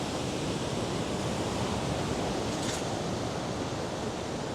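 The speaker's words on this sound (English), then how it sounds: "Look at these waves coming in here." Ocean surf washes in at a beach pier in Virginia Beach, a steady broad rushing roar of breaking waves, constant and fairly loud without talk.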